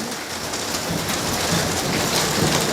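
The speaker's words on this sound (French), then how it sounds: "Il y a bel et bien de l'orage." Heavy rain pours steadily and close by as a thunderstorm passes, a dense constant wash of drops with faint low rumbling underneath, no voices.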